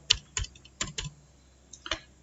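Someone types a name on a computer keyboard: a handful of crisp, separate key taps close by, irregularly spaced with short pauses, ending with two final clicks and no talking.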